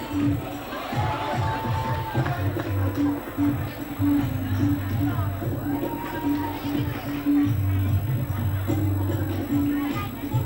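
A school group at an awards ceremony cheers in a steady, loud crowd roar with mixed voices and a continuous babble that runs throughout.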